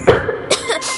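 Two or three close, loud chesty coughs from a man with a cold, quick harsh bursts in rapid succession within about a second.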